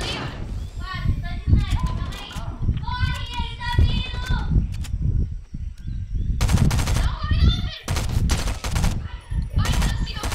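Rapid gunfire bursts crack out in a Fortnite match, several loud automatic volleys with short pauses, while young players chatter excitedly over the shots.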